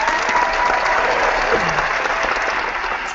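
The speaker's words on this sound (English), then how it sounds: "let's give a big shout of applause for Paul Tyra for putting this all together" Continuous crowd applause, dense and even, carries through the whole moment at steady loudness, with a brief voice faintly audible under the clapping midway.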